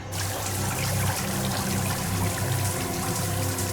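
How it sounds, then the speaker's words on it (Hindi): Water rushes loudly and steadily into a cracked submarine in a TV drama scene, a dense continuous gushing roar that never lets up across the whole span. "सबमरीन में दरार आ गई सर। पानी तेजी से नीचे आ रहा है।"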